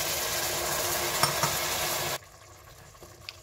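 Steady sizzling and bubbling of tinned fish liquid poured into a hot pan for curry, with a couple of light clinks, then it suddenly drops to a much quieter simmer.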